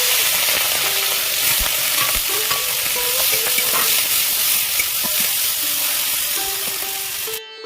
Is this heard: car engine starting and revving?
no